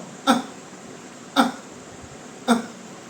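Three forceful closed-mouth coughs for kapalbhati yoga breathing, evenly spaced about a second apart, short sharp bursts close to the microphone with near-silence between them.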